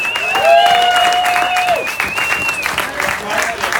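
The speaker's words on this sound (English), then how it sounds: "Give yourselves a round of applause for that." Crowd applause with scattered cheers and whistles, steady and fairly loud for a few seconds, voices calling out over the clapping.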